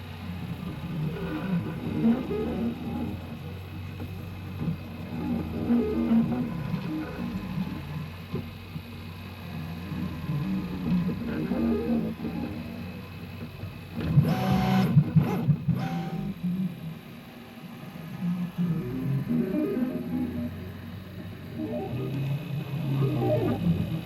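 A 3D printer prints the top half of a UFO model at reduced speed, its stepper motors humming and whirring in a low, shifting pattern, close and moderately quiet, with a brief louder burst midway.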